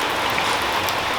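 Rain falling on and around a shed with steel windows and doors beside a patio, a dense, steady patter of drops on hard surfaces, close and continuous, with no voices.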